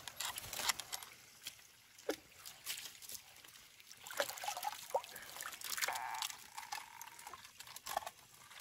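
Water trickles and splashes from a household tap in short bursts at moderate distance, with irregular pouring and dribbling noises.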